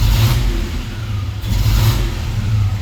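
A Squarebody C10 truck with an LS engine swap revs loudly and close by, a deep throbbing engine note that rises and falls twice over the idle.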